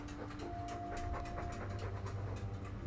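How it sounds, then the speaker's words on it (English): Dog in the video game Dragon Age II panting quickly and continuously, loud and close over a low droning background, with no voices. "All that noisy dog breath, day in, day out."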